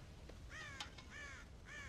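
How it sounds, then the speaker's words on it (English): Crows caw in Red Dead Redemption, where the birds have broken into a farm corn silo; three or four harsh, raspy caws come in a loose rhythm over low wind-like ambience, fairly close and with no talk. "God damn crows!"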